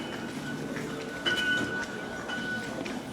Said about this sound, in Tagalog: Tapos dito tayo sasakay ng MRT papuntang Longshan